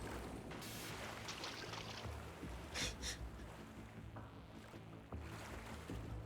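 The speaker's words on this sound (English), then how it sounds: "I don't know why that water sound got me right there." Water in a video game: faint lapping and sloshing under a low ambient hum, with a few soft splashes and a brief brighter swish near the middle.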